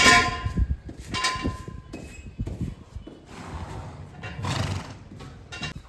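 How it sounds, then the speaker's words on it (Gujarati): Kathiawari horses neigh repeatedly close by while hooves clop and shuffle on the ground between the calls. "આ બાજુ પણ જુઓ તમે પ્યોર કાઠિયાવાડી બ્રીડનો વછેરો છે"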